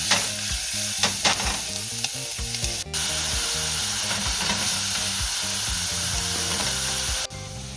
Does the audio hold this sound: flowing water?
no